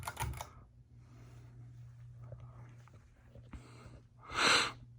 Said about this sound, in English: It does have a pretty audible hum to it,